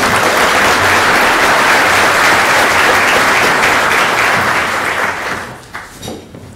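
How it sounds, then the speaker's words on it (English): A forum audience at a Pancakes & Politics event gives a round of applause for a TV host, loud sustained clapping that fades out over the last second or so with a few scattered claps. "Please give him a round of applause."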